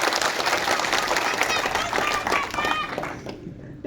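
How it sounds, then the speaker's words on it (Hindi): An audience at a concentration training session breaks into loud, sustained applause that tapers off toward the end, with voices and crowd noise mixed into the clapping. "तालियां बजा लीजिए।"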